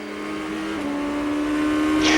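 A GP2 race car engine, captured onboard during the 2007 Spain sprint race, drones in a steady harmonic note that sounds off and rough and grows louder toward the end.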